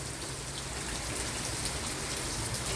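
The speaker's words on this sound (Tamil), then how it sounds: "இன்றைக்கும் வந்து செம்மையாக மழை பெய்து கொண்டே இருக்கு" Heavy rain pours steadily over a home vegetable garden with an onion patch, a dense, even hiss that holds constant throughout with no voices or other sounds.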